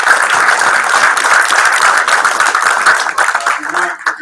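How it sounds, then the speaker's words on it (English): Audience applause at a game studio job fair event, loud and close, a dense burst of clapping that holds steady and then thins out toward the end. "So why don't you guys give a round of applause for them too."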